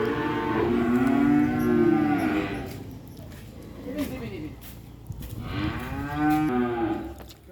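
Cattle in a pen at Sapipedia in Purwantoro, Wonogiri, low drawn-out moos rising and falling, one long call, then a shorter one, then another long call. A person speaks briefly in between.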